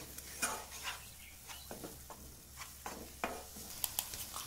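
Moong dal halwa with saffron is stirred in a pan, a spoon scraping and clinking in soft irregular strokes over a faint sizzle, quiet and close with no talk.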